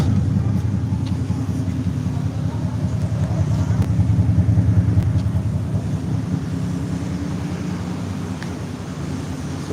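A truck engine with dual exhaust idles steadily, a loud low rumbling drone that swells slightly in the middle and holds throughout, with no talk over it.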